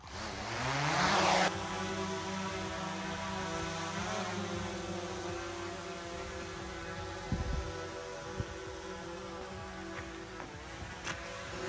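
An aircraft engine during takeoff gives a steady, droning propeller hum with strong tonal harmonics. It holds loud and continuous, with a brief louder surge at the start and no voices.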